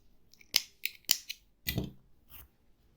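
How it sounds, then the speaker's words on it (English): Scissors snip crochet yarn after a finished round of baby booties: several quick, close, crisp cuts and clicks in a quiet room, the last ones softer. "and you cut your yarn"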